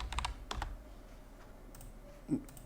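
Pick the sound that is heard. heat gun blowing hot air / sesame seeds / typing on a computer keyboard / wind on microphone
typing on a computer keyboard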